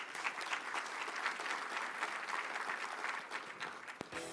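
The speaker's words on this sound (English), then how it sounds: "Give the police force a round of applause, please" Audience at a city's State of the City address applauding the police department, an even, fairly distant round of clapping that holds steady and then cuts off abruptly.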